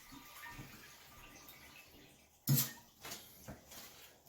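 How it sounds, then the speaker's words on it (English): Excess water is scooped and poured out of a toilet tank during a toilet installation, with faint sloshing and trickling followed by sudden splashes and a few short, louder water bursts. "So let's get this excess water from out of this tank"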